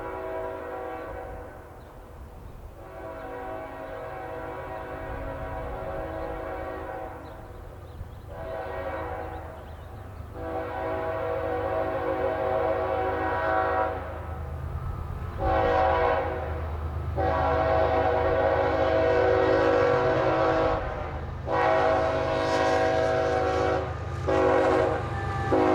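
CSX manifest freight train on the Indianapolis Line at Fortville, Indiana, rolling steadily past on track 2 while its horn sounds in several long loud blasts with short gaps, a continuous rail rumble running underneath.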